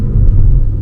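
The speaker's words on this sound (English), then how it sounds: "So it really, what it seems to do is deepen the tone of the exhaust" A 2021 Audi RS7 with a 600 HP engine gives a brief, loud, deep exhaust rumble, a close throbbing low drone lasting under a second.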